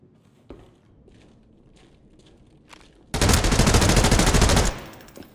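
Loud burst of rapid automatic gunfire from a gun in the shooter game Arena Breakout: Infinite, lasting about a second and a half after quiet in-game ambience with a few faint clicks.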